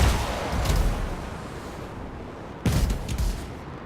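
Enemy gunfire in Anthem arrives as two separate booming volleys a couple of seconds apart, heavy and close, over a constant rushing background.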